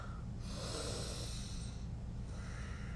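During a yoga session in a hotel room, an instructor takes slow, audible breaths through the nose, two long airy inhales or exhales, soft and close.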